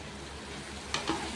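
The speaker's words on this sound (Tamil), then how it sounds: "எண்ணெயை விட்டு நான் தாளிச்சிட்டேன். தாளித்து இதை நல்லா குக் பண்ணிகிட்ருக்கே" Ground pumpkin masala paste cooking in oil with tempered mustard seeds, a steady close sizzle with a couple of brief stirring scrapes near the end.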